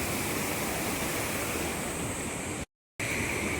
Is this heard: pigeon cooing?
no